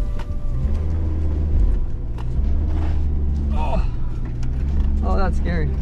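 A police Ford F250 truck drives along a soft, muddy road, a steady low engine rumble running throughout as people talk over it.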